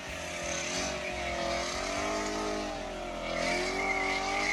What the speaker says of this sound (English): He wanted to attract attention with his engine noise and drifting